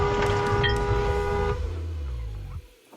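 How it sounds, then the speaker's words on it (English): A car horn blares in a long sustained honk during a near collision at a Florida intersection, recorded from inside the car on a dashcam, then cuts off as road noise fades. "slam on the brakes while honking and avoiding a collision"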